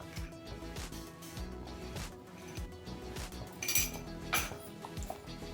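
Palak paneer being stirred in a pan: close metallic clinks and scrapes of a spoon against cookware, coming in an irregular run over a low, steady background hum.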